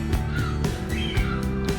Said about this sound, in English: Seagulls are coming in, can you hear them?